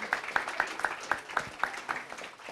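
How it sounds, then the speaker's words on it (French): Audience clapping for a composer at a film-music masterclass: a thin, evenly paced run of about ten sharp claps, fairly close and moderately quiet, with no talk over it. "On peut l'applaudir s'il vous plaît."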